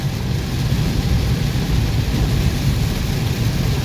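Heavy rain pounds steadily, with deep rumbling thunder and road noise, while driving on road 226 between Huai Khayung and Kanthararom, loud and continuous without any talk.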